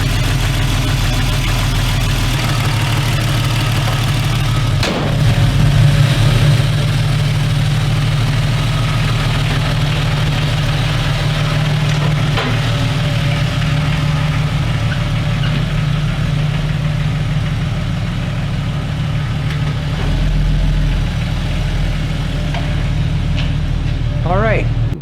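A Jeep 4.0 engine runs steadily at a low, even idle-like rumble for the whole stretch, loud and close, after a crankshaft position sensor replacement that cleared a P0320 code.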